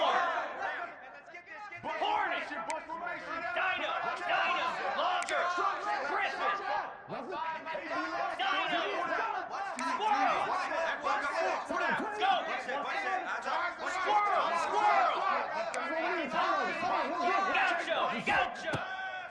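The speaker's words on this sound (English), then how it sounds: "This dog crowd is off the leash, and they are coming after them, bringing noise on third down." A Georgia home football crowd roars on third down against Georgia Tech, a loud, massed din of yelling and cheering that rises and holds for the whole stretch, with many voices blended together.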